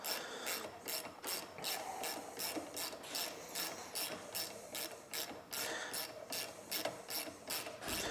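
A ratchet unscrews a nut during cleaning of a semi-automatic gun, giving a steady run of quick, close clicking strokes in a regular back-and-forth rhythm, quiet and alone.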